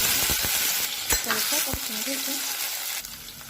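Mustard and cumin seeds sizzling and popping in hot oil, a bright frying hiss with sharp crackles, while a person talks quietly over it.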